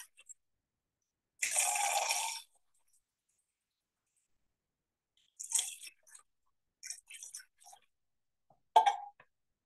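Water poured from a cup over a hand for ritual handwashing: one splashing pour of about a second, then several shorter, softer splashes and drips separated by silence.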